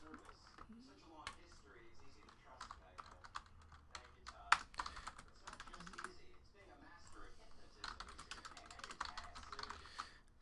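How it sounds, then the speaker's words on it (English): Quick, light clicking of computer keyboard keys comes in uneven bursts, close and fairly soft, with a voice talking over the typing. "All right, so let's type in these hits."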